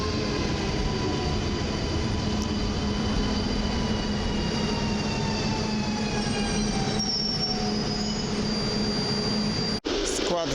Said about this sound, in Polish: a na tor pierwszy wjeżdża pociąg WKD, kierunek Grodzisk, Mazowiecki